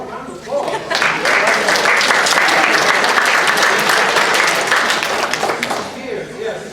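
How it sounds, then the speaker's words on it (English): Conference audience applauding loudly and steadily for several seconds, dense clapping filling the room without a break. "Give me a round of applause."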